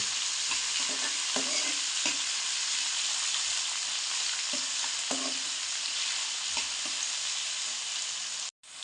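Onions sizzle and are stirred in a pan for palak chicken, a steady close frying hiss with occasional soft scraping strokes of a spoon, no voices, cutting off abruptly at the end.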